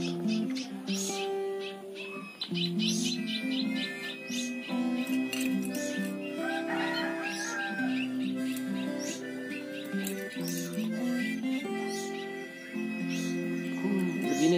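Emprit munia birds chirp and tweet in quick, high, repeated calls close by, over a steady low musical drone throughout.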